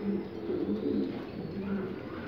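Egyptian pigeons coo inside a loft with their squabs, a close, low, throaty cooing repeated in soft rolling phrases with no other sound around it.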